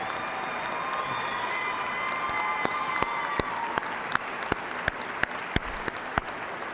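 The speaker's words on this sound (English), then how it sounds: "please join me in showing your appreciation for these very important people in your lives with a generous round of applause" A large audience at a university commencement ceremony gives a generous, steady round of applause for the faculty and staff, a dense wash of clapping with sharp individual claps standing out toward the end.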